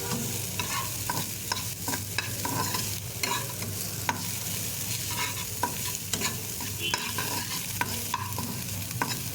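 Chopped onions fry and sizzle in a pan with steady stirring, a continuous close crackle broken by repeated scraping strokes of the spoon throughout.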